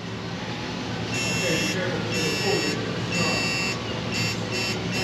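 A digital torque wrench on a Ford 5.4 engine timing job gives a series of rapid high electronic beeps, several short pulses in quick succession over steady background hum, with someone speaking nearby.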